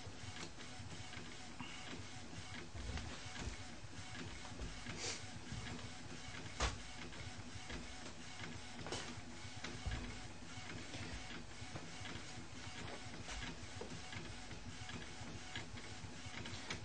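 Quiet, steady mechanical hiss and whirr with faint ticking runs the whole time, a flatbed printer printing onto a marble tile continuously at low volume.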